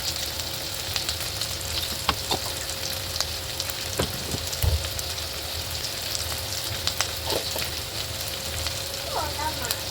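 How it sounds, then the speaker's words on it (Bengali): Turmeric and cumin powder frying in a pan for an egg omelet curry, a steady close sizzle and crackle with occasional sharp spoon scrapes and knocks against the pan; no talking. "এখন মশলাটাকে অল্প কষিয়ে নেব।"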